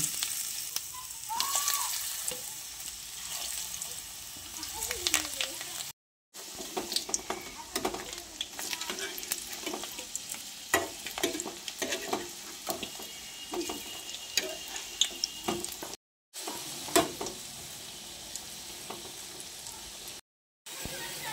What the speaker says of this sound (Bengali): এই পকোড়াগুলো ওই একইভাবে ভেজে নেব